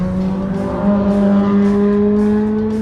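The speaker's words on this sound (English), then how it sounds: "actually that is the Ferrari we're going to be driving, followed by a C8 Corvette" A Ferrari F430 engine drones steadily at a distance, its pitch slowly rising and falling as it drives around a racetrack.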